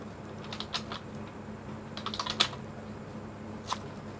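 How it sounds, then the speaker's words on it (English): Typing on a computer keyboard up close: scattered light key clicks in short bursts, with a quick flurry in the middle and a single tap near the end, otherwise quiet. "I'm just typing"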